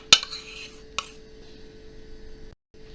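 Nut or seed purée is stirred into a sesame cream cake batter, with two sharp clinks of a utensil against the bowl followed by soft steady mixing and a faint constant hum underneath.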